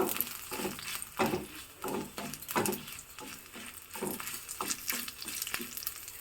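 Black pepper, a small piece of ginger and garlic cloves are dry-roasted in a pan, giving a soft, continuous crackle with repeated scraping stirs at an irregular rhythm.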